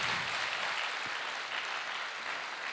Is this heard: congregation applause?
yes